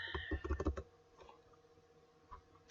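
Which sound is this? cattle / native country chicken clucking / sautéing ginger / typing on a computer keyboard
typing on a computer keyboard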